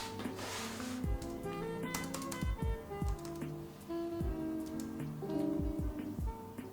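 A detachable tablet keyboard is tapped in a series of sharp clicks, some quick and some spaced out, over a busy background of steady tones and hum.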